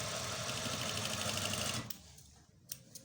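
A sewing machine stitches a shirt cuff lined with buckram, running in a loud, steady close whir for about two seconds before stopping, followed by a few faint clicks.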